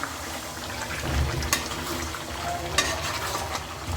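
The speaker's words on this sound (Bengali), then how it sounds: "10 মিনিটের জন্য কষিয়ে নেব আলু আর মাংস" Potatoes and chicken sauté in a wok for a Bengali red chicken curry, with steady frying sizzle and occasional scraping stirs and clinks of a spatula against the pan.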